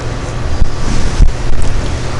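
Steady wind buffets and roars across the microphone in a continuous broadband rush, with low gusty thumps rising and falling throughout and no voices.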